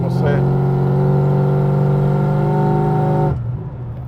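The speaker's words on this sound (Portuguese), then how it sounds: "É um V8 acelerando, né? Olha o ronco do carro, né?" A Camaro SS with a supercharged V8 revs hard and close, a loud sustained roar with a rising and falling pitch that cuts off sharply near the end, followed by a fading rumble.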